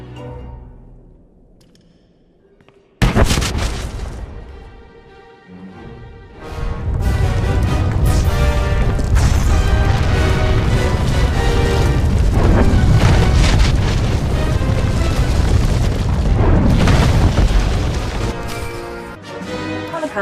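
A huge explosion in Star Wars: The Old Republic on Corellia bursts in suddenly after a quiet start, followed by a long, loud rumbling roar with crashing debris that holds for many seconds before easing.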